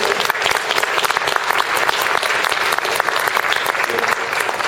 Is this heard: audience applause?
yes